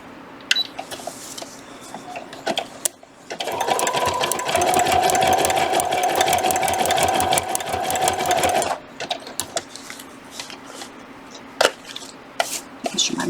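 An embroidery sewing machine stitches a design onto a hooded towel, a loud, fast, even mechanical whir and clatter running for several seconds between quieter handling clicks and taps before and after.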